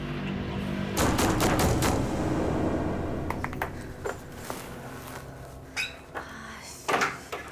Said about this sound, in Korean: 맨 마지막 칸 문에서 노크 소리가 들리는 거예요